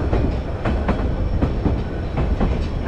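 A White Pass train climbs a mountain line, its steady rumble broken by rhythmic clickety-clack wheel beats over rail joints, close and continuous with no voices.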